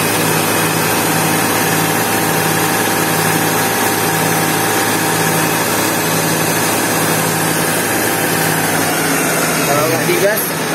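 A Daihatsu Xenia engine runs with its air-conditioning compressor engaged, giving a loud, close, steady drone with a faint rhythmic pulse, and the pitch rising slightly near the end.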